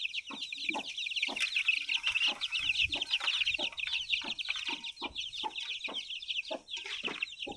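A flock of chickens clucking and peeping continuously, close by, with overlapping short calls in a busy, irregular rhythm and no talking.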